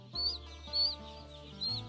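Chickens on a chicken farm cluck in three short bursts over a low steady hum, with no voices present.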